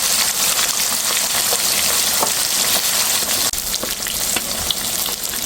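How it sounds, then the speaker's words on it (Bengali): Katla fish fries steadily in a pan over a low flame, giving a close, continuous crackling sizzle with scattered brighter pops and no voices. "জালটা একটু কমিয়ে রাখবো আস্তে আস্তে ভাজা হবে"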